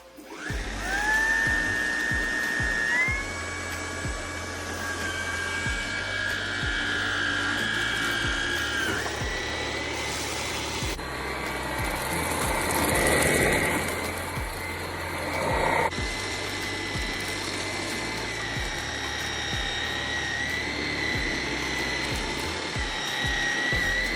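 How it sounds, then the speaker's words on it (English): A Hoover ONEPWR WindTunnel Emerge cordless stick vacuum runs continuously with a steady motor whine that shifts pitch several times and surges into a louder roar midway, close and alone. "I got the new Hoover all-terrain vacuum, and let's try it out."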